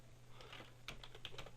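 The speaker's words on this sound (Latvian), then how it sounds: "Tad rakstīsim Kārlis" Quick, quiet keystrokes on a computer keyboard as a username is entered, a short burst of a few clicks over faint background hum.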